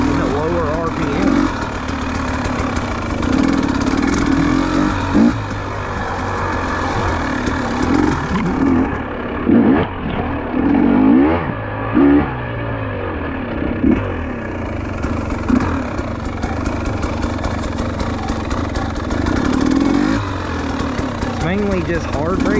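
A GasGas EC300 two-stroke dirt bike engine runs at low RPM with a rough, clattering idle and a few small blips, close and fairly loud, with occasional voices underneath.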